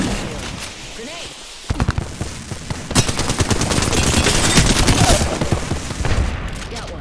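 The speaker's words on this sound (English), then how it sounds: "I am taking fire, friends." Rapid gunfire crackles through a video game firefight, dense automatic bursts building and staying loud over several seconds, with a player talking over the shooting.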